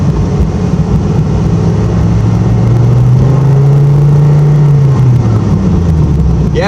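A Dodge Viper pulls away, its engine a steady loud drone that swells slightly as it drives off, with no talking.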